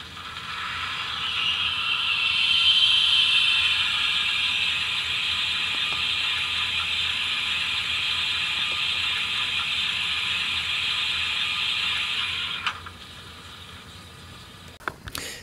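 Injector sound effect on an Accurascale GWR Manor model steam locomotive: a steady, fairly loud hiss that holds for about ten seconds, then cuts off, followed by a few faint clicks.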